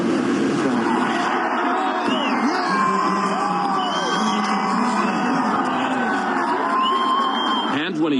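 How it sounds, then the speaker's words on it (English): A big crowd cheers and shouts for the president-elect as he greets them from a balcony, a loud sustained roar with whoops and yells. "when he appeared in public to greet the crowd from a balcony, he received a big ovation"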